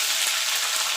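Diced potatoes hiss and sizzle steadily in hot oil tempered with whole cumin seeds on a low-to-medium gas flame, a close, continuous frying crackle with no voices.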